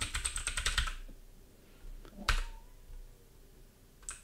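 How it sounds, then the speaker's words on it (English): Typing on a computer keyboard at a desk: a quick burst of close, crisp key clicks at the start, then a pause with a single sharp click and one more near the end, quiet overall. "Come on, keyboard, wake up."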